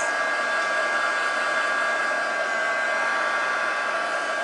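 Heat tool blows continuously to heat set distress stain on seam binding, a steady close whooshing fan and air hiss with no talk.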